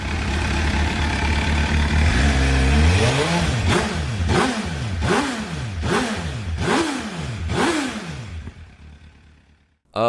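Inline-four sport motorcycle engine revs hard in a series of about six rising-and-falling throttle blips, loud and close, then drops back near idle.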